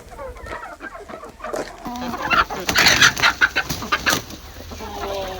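Chickens cluck close by in a farmyard, short irregular bursts of clucking that swell in the middle and taper off, with faint background noise.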